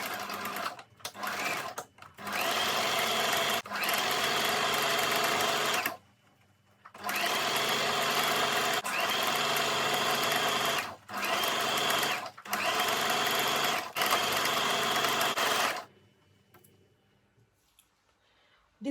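A sewing machine stitches crinoline to mesh in several steady bursts of rapid mechanical whirring, separated by short pauses, close and clear with no voices.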